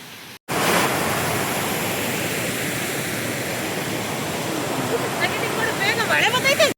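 A waterfall on a family trip roars as a steady, loud broadband rush of falling water that fills the scene, with faint voices surfacing toward the end.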